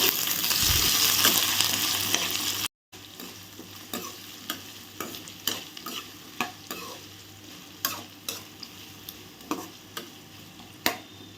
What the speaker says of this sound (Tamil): இப்போ இது எல்லாத்தையுமே நல்லா பொன்னிறமாக வர்ற வரைக்கும் நம்ம வந்து வதக்கி விட்டுக்கலாம்